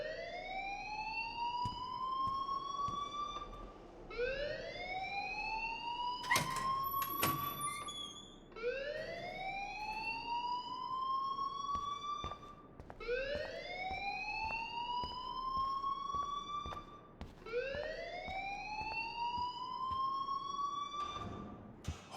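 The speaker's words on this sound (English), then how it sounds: "please turn off that alarm since that's your job" Fire alarm ringing: a loud wailing tone rises and repeats in steady cycles about every four seconds, with sharp clicks and bangs between the sweeps and no voices.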